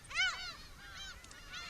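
Loud, harsh calls of black-tailed gulls at a large seabird colony on Furugelm Island in Peter the Great Bay, Sea of Japan: a sharp nasal cry, then more calls overlapping against a steady background of distant colony noise.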